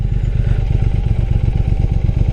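Motorcycle with Arrow Nichrom Pro-Racing silencers and the baffles removed: a loud, close, deep exhaust throb that pulses steadily and rapidly throughout, with no talking.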